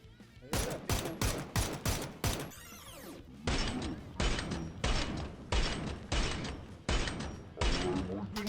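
Bursts of automatic gunfire in PUBG, several rapid volleys separated by short gaps, loud and close, with faint talk underneath.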